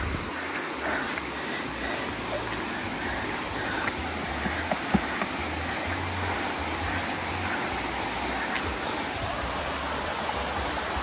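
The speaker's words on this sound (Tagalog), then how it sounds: "Naririnig nyo po yung lagas-las o yung ingay ng tubig. Kasi may irrigation dito." Steady rushing of water flowing through an irrigation channel in a hillside farm area, a continuous broadband wash with no voices, close and constant throughout.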